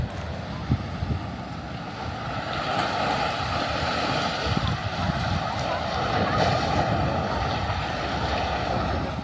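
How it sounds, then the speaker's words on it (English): Thunderous ocean waves breaking on a rocky beach of a remote island, a loud continuous roar and wash with gusty wind buffeting the microphone and faint voices beneath. "down here to the left of these statues is a beautiful rocky beach, and you see those thunderous waves"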